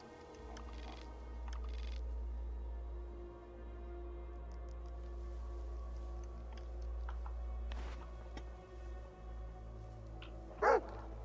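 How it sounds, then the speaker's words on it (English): Dogs barking in the S.T.A.L.K.E.R. video game, scattered barks and yips over a steady low ambient drone, fairly distant with a sharper bark near the end, no talk. "These dogs are still here."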